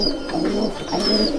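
Several pigeons murmur and coo together in a Sangrampur loft, a low, blurred chorus of overlapping throaty calls at moderate distance with a faint high tone above.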